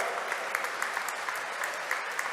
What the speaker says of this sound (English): first of all, applause, if you like it, of course